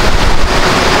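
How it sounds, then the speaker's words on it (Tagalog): Super Typhoon Pepito's strong wind roars over a riverside in Baler, Aurora, a loud, continuous broadband rush buffeting close to the microphone. "At ang hangin dito ay paganyan"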